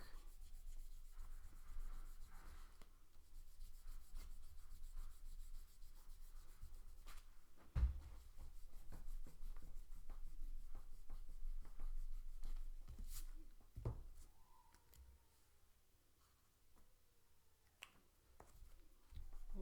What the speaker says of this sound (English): I'm going to get my big giant eraser and I'm going to erase all the extra pencil lines really quick